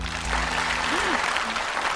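Studio audience applause honoring a guqin restoration effort, a continuous even wash of clapping from a crowd, fairly close and full for the whole stretch.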